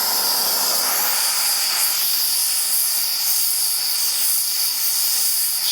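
Steady, loud high-pitched hiss from the turbocharger on a truck, continuous and close without a break, with no talking over it.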